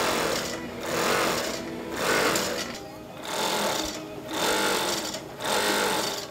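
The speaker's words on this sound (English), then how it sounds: "Then the sewing begins by machine and by hand." Sewing machine stitching beaver fur coat panels, running in steady rhythmic bursts that swell and ease roughly every second, close and loud throughout.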